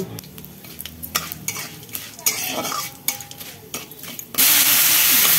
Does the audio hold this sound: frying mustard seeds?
yes